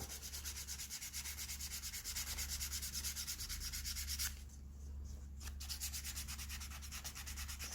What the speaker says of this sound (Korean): 사포질은 어느 정도까지 해주시냐면은, 아까 전에 바른 엣지 코트를 다 벗겨내는 건 아니고 울퉁불퉁한 곳 위주로 조금 매끈해질 정도로